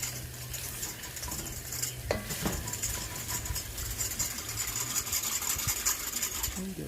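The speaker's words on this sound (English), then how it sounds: "Give this a little stir." Sambal pork ramen being stirred in a pot, a steady broadband scraping and bubbling texture with a few sharper utensil knocks against the pot, close and continuous throughout.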